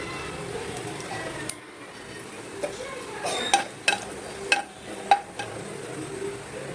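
Whole spices (cardamom, cumin, cloves, bay leaf, cinnamon, black pepper) dropped into hot oil, a soft steady sizzle broken by several sharp metallic clinks of a spoon against the pan, close by.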